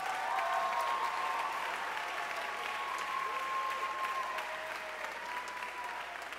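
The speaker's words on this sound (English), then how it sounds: "Give them a big round of applause." Audience at a school music concert applauding three All-State student musicians, sustained even clapping from a sizable crowd heard from a distance, steady for several seconds and easing slightly toward the end.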